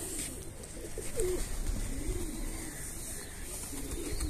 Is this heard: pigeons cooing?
yes